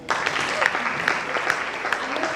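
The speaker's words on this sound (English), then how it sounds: "A round of applause for Agnes." An event audience gives a panelist, a fintech head of growth, a short burst of applause, dense clapping with a few whoops rising above it.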